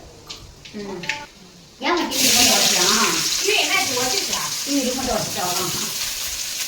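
Mustard seeds hit hot oil for a fish curry, a sudden loud sizzle that bursts in and continues as a steady spitting hiss while someone talks over it.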